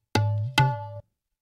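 Two tabla samples loaded in FL Studio's FPC sound in quick succession, each a sharp struck attack with a ringing, pitched resonant tail, close and clean against silence.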